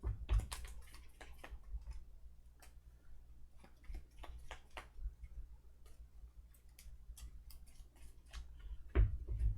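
Brass Birmingham board game cards being shuffled by hand on a table, quick bursts of crisp riffling clicks and taps in irregular clusters, close and quiet with short pauses between.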